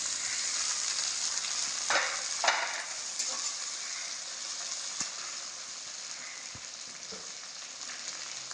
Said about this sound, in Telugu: ఇప్పుడు టమాటా ముక్కలు వేసేస్తున్నాను.